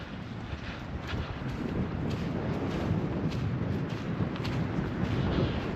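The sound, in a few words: wind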